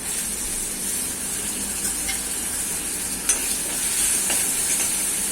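A hot tempering sizzles steadily in a pan as kokum, tomato, coriander and mint go into the oil, a dense close crackle and hiss with a few faint clinks and no talk.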